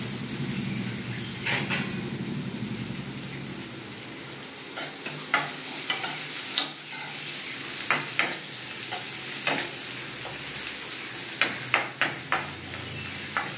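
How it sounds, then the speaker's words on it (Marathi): Onion frying in a pan over a low flame for kanda poha, a soft continuous sizzle with repeated spatula scrapes and taps that grow more frequent later on. "कांदा थोडा वेळ ब्राऊन होईपर्यंत थोडं गॅसमध्ये ठेवणार"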